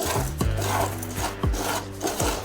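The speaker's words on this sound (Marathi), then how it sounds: "आता पॅनमध्ये आपल्याला साबुदाणा टाकायचा आहे। दोन्ही आपल्याला छान हलकेसे भाजून घ्यायचे आहेत।" Barnyard millet and sago are dry-roasted in a pan, giving a steady gritty scraping and rustling close by, with rhythmic strokes about once a second as the grains are stirred.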